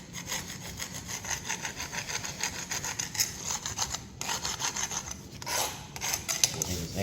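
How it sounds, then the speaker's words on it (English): A hand scraper rasps back and forth across a patched epoxy chip garage floor, knocking off jagged edges in steady rhythmic strokes, close and moderately loud, with no talking. "now we're going to scrape this area to get the jagged edges off"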